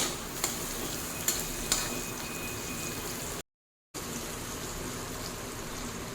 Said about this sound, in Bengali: পেঁয়াজটা প্রথমে মিনিট 2 হাই ফ্লেমে ভেজে নেব।